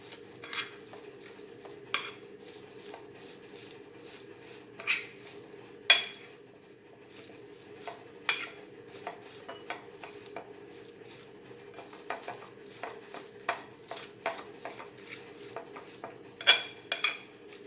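Cashew nut and coconut pancake batter being stirred in a bowl, a quiet steady scrape punctuated by sharp clinks of the spoon against the dish at irregular intervals, with no talking.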